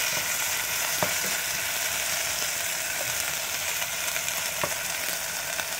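Sliced onions and a whole green chili sautéing lightly in oil in a pan, a steady, fairly quiet sizzle and crackle with a few small pops and stirring taps, heard close and without talk.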